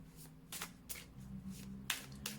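Quiet, close riffles of a tarot deck being shuffled for a card reading come in several brisk bursts over a soft background hum.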